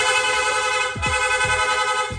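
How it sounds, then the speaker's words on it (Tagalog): A Sniper 155 motorcycle's aftermarket horn blares continuously, with short bursts pressed in quick succession over a steady engine hum. "Rapid horn."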